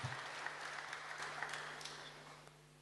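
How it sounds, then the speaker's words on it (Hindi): Audience applause welcoming a speaker to a Rajyoga meditation session, a steady wash of many hands clapping at moderate distance that gradually thins and fades over a few seconds. "एक बार जोर से ताली बजाकर हमारे आदरणीय जयंती बहन जी का हम स्वागत करें।"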